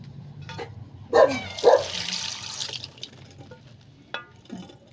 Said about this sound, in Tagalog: Kailangan linisan kahit anong kaliit ng pusit.